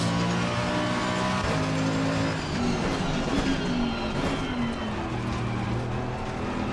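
Race car engine from the Assetto Corsa Competizione racing game, apparently a Mercedes at the Nordschleife. The engine holds a steady, loud drone that climbs and shifts in pitch through gear changes across the whole stretch, with no talk over it.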